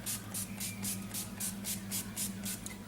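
NYX setting spray is misted in quick, even pumps, about ten short hissing bursts in a steady rhythm, close and fairly soft.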